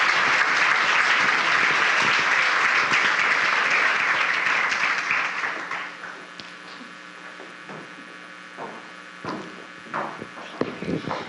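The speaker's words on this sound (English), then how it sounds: "Please join me in giving a big round of applause." An audience at an ambassador coronation event gives a round of applause for visiting St. Paul Winter Carnival junior royalty, loud dense clapping that fades out after about six seconds, leaving a quiet room with scattered small noises.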